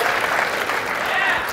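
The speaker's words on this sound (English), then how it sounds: "you can just keep clapping or wait till the end" Audience applause at a university new venture challenge championship, a dense steady patter of many hands clapping throughout, fairly loud and even.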